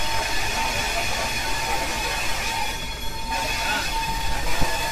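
The Jallianwala Bagh Express sits at the station in Amritsar, a steady hiss and hum of the rail car with a faint whine, fairly close and continuous with a slight dip midway.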